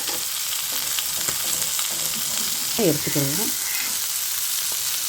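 Fish curry sizzling and bubbling steadily in a pan, a constant frying hiss with a short stretch of speech in Tamil partway through.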